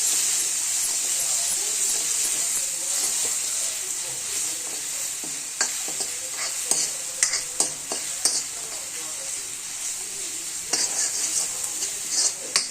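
Mustard seeds, cumin, curry leaves, ginger-garlic paste and dried red chillies sizzle hard in hot oil with a bright, continuous hiss, broken by scattered pops and the occasional scrape of a stirring spoon.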